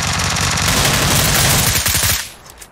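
Rapid loud gunfire in a video game, a dense burst of repeated shots lasting about two seconds before cutting off abruptly.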